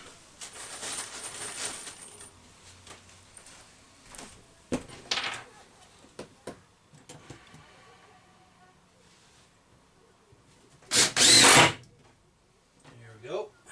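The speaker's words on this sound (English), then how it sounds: "I'm just going to listen to the drill so I know whether it's hit or not." Power drill boring into an RV kitchen countertop during a rebuild, short loud whirring bursts separated by quieter handling noises and clunks, with one long, strong burst near the end.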